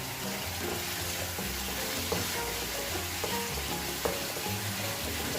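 Bagoong (fermented shrimp paste) being stirred in a pan, a steady sizzle and frying crackle under soft scraping strokes of the spoon, with a couple of sharper clinks against the pan.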